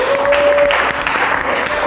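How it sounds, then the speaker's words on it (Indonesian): Classroom applause for two students: a dense burst of many hands clapping together, loud and close, filling the room with no talk over it. "tepuk tangan untuk kalian berdua"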